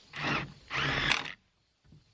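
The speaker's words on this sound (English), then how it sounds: "And then I'm just gonna use my drill to get these installed here." A power drill drives fasteners to install truss hangers on a wooden playhouse, two short whirring bursts close by, followed by a brief faint knock.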